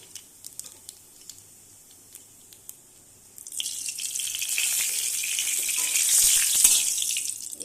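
Black cumin seeds hit hot oil in a kadai and break into a steady close sizzle that keeps building, with a few faint clicks and taps before it starts.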